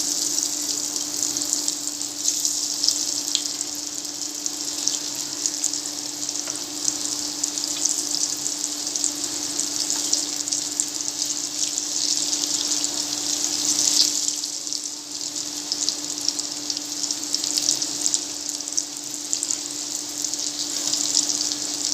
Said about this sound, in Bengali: লো হিটে আস্তে আস্তে ভাজতে হবে